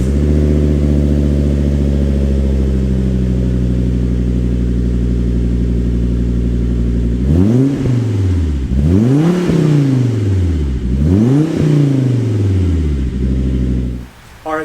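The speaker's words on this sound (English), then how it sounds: "I've put in a 5-cylinder turbocharged engine." A turbocharged 5-cylinder engine in a 2005 Volvo S60R with 173,000 miles idles with a steady drone, then is revved several times in a row, each rise and fall in pitch distinct and loud, close by.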